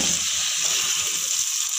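Mutton frying for pulao, a steady loud sizzle of meat in hot oil with a hissing crackle throughout and no speech.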